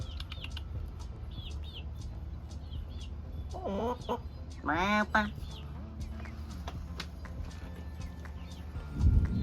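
Backyard hens cluck softly while pecking at black soldier fly larvae treats, with a couple of short, louder rising calls standing out mid-clip over a steady outdoor background.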